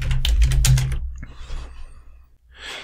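Quick bursts of computer keyboard typing, several rapid keystrokes clustered close to the microphone, followed by a quiet pause with a faint breath and a brief resumption of soft activity.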